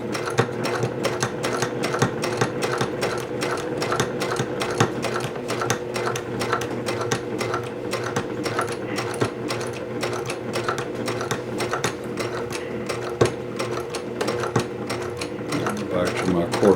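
A serger trims and serges the seam allowance on a courier bag, with a close, continuous rapid mechanical chatter and clicking that holds steady throughout while a voice talks over it.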